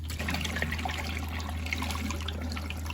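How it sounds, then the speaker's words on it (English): Lentils for daal are washed in water, a soft continuous trickling and sloshing close by with a low steady hum underneath and no talking. "Wash this until the water is clear and it's not this foamy and cloudy."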